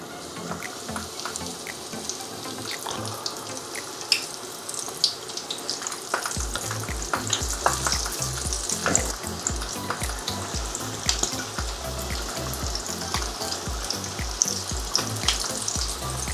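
Spring rolls drop into hot oil at about 160 to 170 degrees; a quiet start gives way to a steady, dense deep-frying bubble and crackle that holds close and even to the end.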